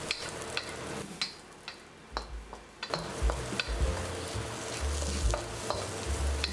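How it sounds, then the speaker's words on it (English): Garlic, green onion whites and jalapenos sizzle loudly in a hot wok while being stirred and tossed, with repeated scraping and clanking strokes over a constant frying hiss. "Fry this up for about 8 seconds, then add the whites of our green onions and jalapenos."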